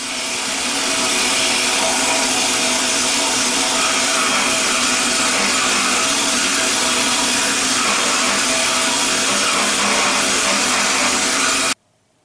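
A vapor honing machine blasts an automotive cylinder head with a loud, steady, broad hiss that runs unbroken for nearly twelve seconds and then cuts off abruptly.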